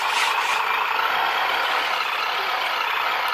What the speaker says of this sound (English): if you flick it up, the engine will start, the sound will start